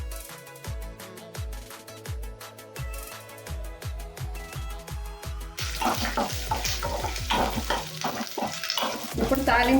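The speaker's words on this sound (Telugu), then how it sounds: "ఇప్పుడు తాలింపు వేగిపోయింది." Fresh curry leaves fry in hot oil for a tempering for a mint, coriander and tomato chutney, with a rhythmic spoon stirring and scraping against the pan, then a louder, fuller sizzle as the frying picks up.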